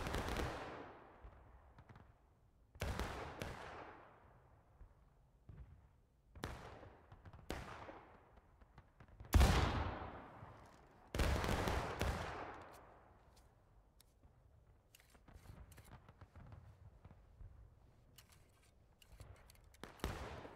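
Musket volleys in the Civil War game War of Rights, several sharp loud cracks spaced seconds apart, each trailing into a long rolling echo, with scattered distant shots between them.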